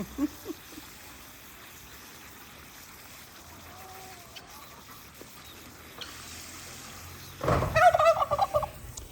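Quiet outdoor ambience in Ghana with faint trickling, then a sudden loud burst of gobbling calls from roosters near the end.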